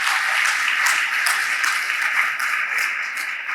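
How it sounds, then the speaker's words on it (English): A graduation ceremony audience at Atlantis The Palm in Dubai gives sustained, even applause for several seconds, dense and fairly loud with no pauses. "Please, let's have a cheer for this."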